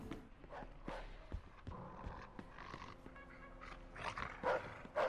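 Dog in the gangster game Mafia 2 barking in short sharp bursts at irregular intervals, fairly faint and mixed with footstep-like thuds and ambient game sounds.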